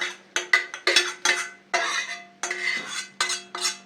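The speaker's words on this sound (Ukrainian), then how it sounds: "Цибулька підрум'янилася. Додаємо до картоплі." Browned fried onion, two large onions' worth, tipped into a bowl of lightly salted potatoes for potato and dill pie filling, with a spoon clinking and scraping against the bowl in a quick, irregular series of close strokes.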